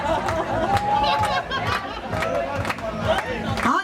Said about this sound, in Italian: Si vogliono prendere tutti gli applausi, tutti gli urli.